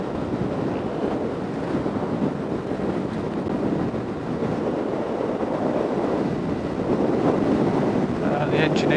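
A 2018 Peugeot Belville 125 scooter engine climbs a hill, a steady continuous drone largely buried under loud, gusting wind rush across the microphone.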